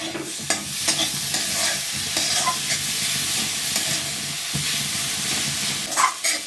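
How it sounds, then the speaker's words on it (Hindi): A roasted gram flour mixture with fresh green coriander is stirred in a hot pan, giving steady sizzling and hiss with scraping strokes, loud and close, without speech. "लास्ट हम इसमें डाल देते हैं थोड़ा हरा धनिया और इसे मिक्स कर दीजिए"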